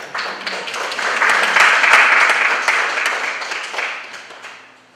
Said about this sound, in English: Please take a round of applause.